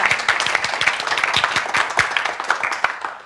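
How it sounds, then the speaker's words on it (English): A loud round of applause from an audience welcoming the next speaker at a speaking event, dense steady clapping with sharp individual claps standing out throughout. "a loud round of applause"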